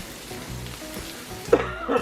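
Taco meat for tacos al bandelero sizzles on a Blackstone griddle, a close, soft crackling fry with light scraping stirs and a couple of brief louder bursts near the end.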